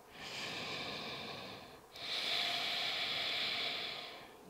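Slow deep breaths during a beginner yoga session: a long, airy exhale, a brief pause, then a second, stronger and breathier breath, close and clear with no talking.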